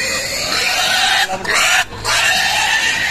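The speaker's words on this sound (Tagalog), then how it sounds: "nabinta namin yung aming baboy na pito" Several pigs oink and grunt at a farm where seven pigs are being sold, a steady dense chorus of squeals and snorts, loud and close, with two brief lulls.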